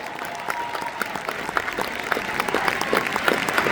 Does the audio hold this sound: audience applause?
yes